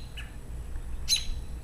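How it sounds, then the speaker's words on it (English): A large bird perched on top of a fence, with a worm in its beak, gives two short chirps. The first is faint and early and the second is louder and sharper near the end, over steady low background rumble. "The big bird is chirping away on top of the fence"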